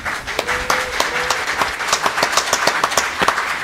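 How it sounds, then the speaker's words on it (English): Audience at a live convention panel applauding, with sharp close handclaps standing out against a wider burst of clapping, steady and energetic for several seconds. "Oh, I'm not supposed to clap."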